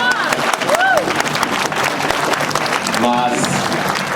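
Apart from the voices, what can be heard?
audience applause at pilgrimage ceremony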